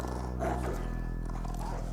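A dog growls and snarls during a fight scene in the 2008 film Bronson, a steady close rumble under movie audio with faint voices in the background.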